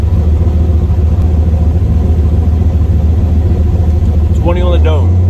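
Tuned street car with its turbo boost turned up, a loud steady low engine rumble droning close by, with a brief rising whine near the end.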